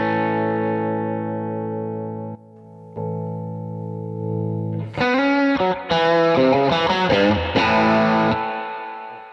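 An electric guitar played through a tube amp turned down to 7 watts with built-in reverb: sustained overdriven chords, then a run of compressed, distorted single notes with a blooming reverb tail.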